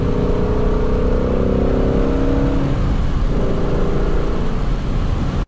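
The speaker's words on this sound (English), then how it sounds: "I hope you enjoyed the sound of the Voodoo engine and driving the GT350 a little bit." A Ford GT350 with its Voodoo engine drives along, the engine holding a steady loud drone with tonal harmonics that dip briefly and then return, heard from inside or close by.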